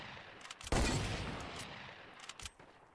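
A loud gunshot blasts in a Wild West video game mode, its rumble trailing off, with smaller shots popping around it and another sharp crack near the end.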